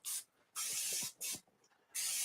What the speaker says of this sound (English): Just some baking spray.